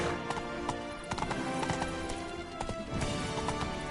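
Roach the horse's hooves clip-clop steadily on the ground in The Witcher 3, a rhythmic close hoofbeat pattern over a continuous game music bed, with a brief whinny-like texture and no talk.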